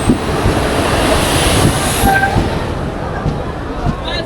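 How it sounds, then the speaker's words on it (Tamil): A passenger train from Tirupati to Rameswaram pulls into a station with a steady loud rumble of wagons rolling close by, faint wheel squeals and clatter, amid dense crowd noise. "திருப்பதிலேருந்து ராமேஸ்வரம் போகிற ட்ரெயின்."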